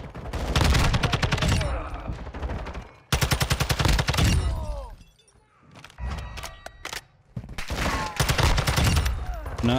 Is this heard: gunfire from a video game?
yes